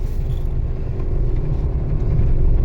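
A car engine idling near 1000 RPM hums low and steady as it pulls away in first gear, a close, continuous rumble with no voices.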